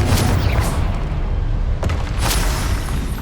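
A fiery blasting spell explodes in the wizarding game Hogwarts Legacy, heard as loud, dense booming bursts and rumbling blasts that roll on continuously over the few seconds.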